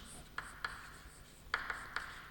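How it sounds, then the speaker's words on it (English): Pen or pencil writing on paper while filling in a chemistry table, with short scratchy strokes in two bursts, quiet and close, with no talking. "In the first column write the element name."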